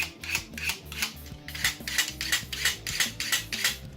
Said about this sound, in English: So we'll give this one a quick sharpen.